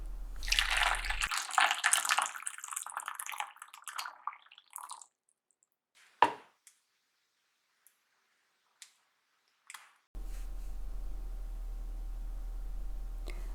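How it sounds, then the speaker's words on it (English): Warm water sloshes and splashes for a few seconds while a small Sylvanian Families toy figure is washed by hand. Then come a quiet stretch with faint clicks and drips, and a low steady hum at the end. "I'm just using a little bit of warm water"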